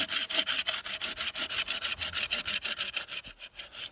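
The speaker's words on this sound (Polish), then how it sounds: "przy samym pniu upiłować piłą albo poprzez pobijanie nożem" A hand saw cuts through wood at the base of a stump, with quick, even rasping strokes repeating close-up about five times a second, with no voices.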